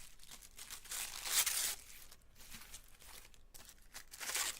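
Patterned tissue paper is torn and crinkled by hand for a mixed-media art piece, giving soft, close, irregular rustling and ripping bursts with no talk.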